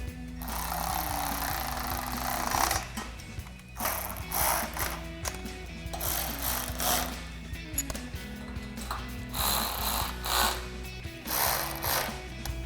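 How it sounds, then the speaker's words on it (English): A 13mm socket ratchet clicks in quick repeated bursts while tightening the roof rack nut-and-bolt fasteners on a Jeep Wrangler JL hard top, close and clear with short pauses between strokes. "get your 13mm socket on your nut side, 5mm Allen wrench on your bolt side,"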